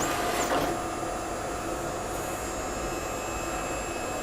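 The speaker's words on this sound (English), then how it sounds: "you can hear the printer in the background hopefully" A steady mechanical whir and hum from a Citizen printer printing runs throughout, with a brief higher whine near the start, fairly quiet and continuous.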